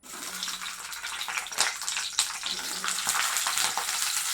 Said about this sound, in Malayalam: നമുക്ക് ആദ്യമേ ഈ വഴുതനങ്ങ ഒന്ന് വറുത്തെടുക്കാം